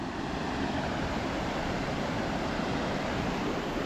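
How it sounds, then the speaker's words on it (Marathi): Strong, fast-flowing water current at a fish farm pond, a dense, steady rushing roar that stays loud and unbroken throughout, with no voices. "आज बघा भरपूर पाणी आहे पाण्याला फेशीर बघा भरपूर जोरात आहे"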